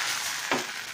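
Dosa batter poured into a hot nonstick pan to make paper dosa with ration rice and egg, giving a steady close sizzle with a brief louder burst midway.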